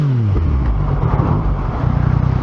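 A motorbike engine revs up close at a motorcycle show, a throaty rising and falling drone with pulsing throttle blips that grows choppier toward the end, with no talking over it.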